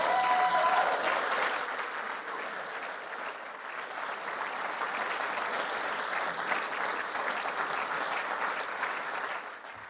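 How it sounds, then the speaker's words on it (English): Sustained audience applause at an awards gathering for emergency care work, loud and steady across the whole stretch with brief whistles near the start, tapering slightly at the end. "Thank you for the clap, yeah."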